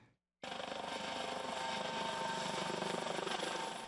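After a brief silence, a helicopter's steady rotor thrum and engine whine kick in and hold, loud and continuous, with a rapid rhythmic chop, during a cyclone rescue exercise at Rangiroa.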